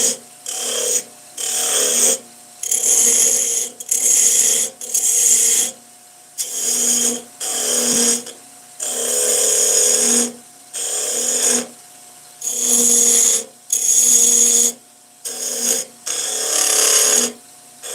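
Dense wood being turned into a top on a wood lathe, with the tool cutting far out from the chuck: loud, rough cutting noise in repeated bursts of one to two seconds separated by short pauses, with no talking.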